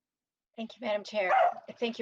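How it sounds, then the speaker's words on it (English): A dog barks and yips in a home during a remote legislative committee hearing, with short sharp barks breaking in over someone speaking close to the microphone. "I'm sorry about my dog."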